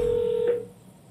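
Telephone dialing tones, a steady keypad tone held for about half a second and then cutting off, leaving faint background hiss, with no talk.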